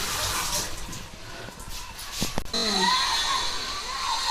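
A sieve is rinsed under running water from a tap, a steady gush that turns louder and fuller halfway through, with brief clatter as the sieve is handled; background talk is faint.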